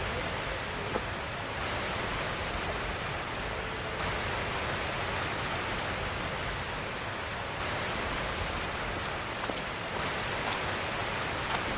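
Hail falls steadily on open ground at Lake Tahoe, a dense, even hiss of tiny impacts that carries on without a break, close and moderately loud, with no voices over it.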